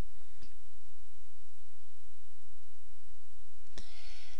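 A single computer mouse click sounds sharp and close when Save is chosen, following another faint click earlier, with no speech over it.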